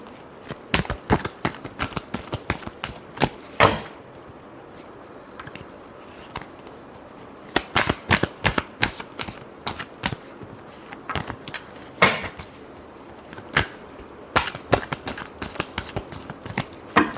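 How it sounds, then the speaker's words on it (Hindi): Tarot cards shuffled by hand in bursts of quick riffling snaps and flutters, separated by brief quieter gaps, close and crisp with no talk. "एक शफल और करनी पड़ेगी।"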